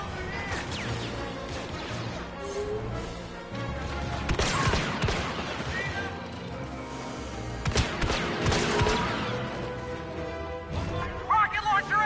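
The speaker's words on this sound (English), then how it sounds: "Who's firing at me?" Rapid bursts of blaster gunfire and crashing impacts in a Star Wars Han Solo action video game, loud and continuous across the scene, with a voice talking over the combat and clustered volleys hitting hardest near the middle and end.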